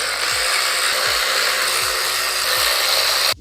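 Removing the four cover screws from a small engine's stator housing with a power driver or drill, a loud continuous whirring motor running close by that cuts off sharply at the end.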